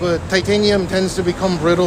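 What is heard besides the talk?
No everyday noises stand out.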